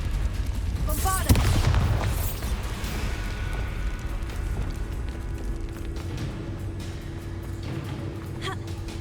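The Bombarda blasting spell in the video game Hogwarts Legacy goes off as a loud, crackling explosive boom early on, followed by a low rumbling game ambience with scattered clattering debris.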